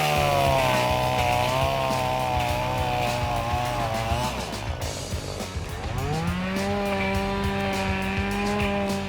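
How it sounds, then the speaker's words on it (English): A chainsaw cuts through corn stalks, its engine droning loud and continuous, the pitch sagging under load midway and then climbing back to a high, steady whine. "one of my buddies grabbed the chainsaw, fired it up, and told us to hang on."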